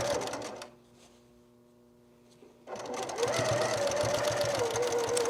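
Noisy heavy-duty sewing machine stitching through many fabric layers of a zipper pouch: a loud steady mechanical whir that stops for about two seconds, then restarts and runs on, close up.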